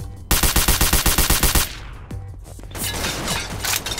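Rapid automatic gunfire from a weapon in Garry's Mod DarkRP, a fast burst of about fifteen evenly spaced loud shots. It cuts off into scattered clatter and background game noise.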